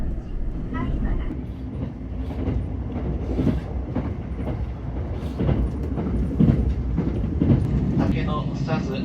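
A train running on rails in Japan, a steady rumble with faint rhythmic clatter from the wheels, continuous and fairly close throughout, on a line calling at Amagasaki, Takarazuka, and Sasayamaguchi.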